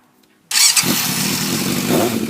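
A Yamaha FZS600 Fazer motorcycle with an ignition fault and dirty carburettors is started; after a brief quiet moment its engine catches and settles into a loud, steady, rough idle close by, with no voices.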